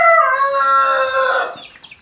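Free-range village chickens (ayam kampung) on a farm crow loudly and close, a long drawn-out call that trails off into a few softer clucks.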